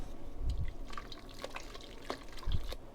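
Hot boiled water stirred into thick mushroom congee, with soft wet drips, small splashes and sloshing pulses from a spoon moving through the rice.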